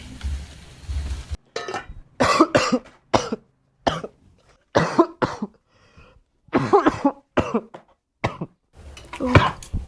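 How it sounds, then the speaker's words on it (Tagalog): A person coughs repeatedly in close, harsh bursts with some throat clearing, in a quiet room, separated by short silent gaps. "Iba na yata yung ubo mo na yan."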